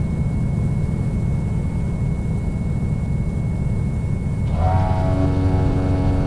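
Carenado SR22 GTSX Turbo aircraft in X-Plane 11 flight simulator, its engine a steady loud droning hum throughout, with a tonal whine rising and shifting in the last couple of seconds.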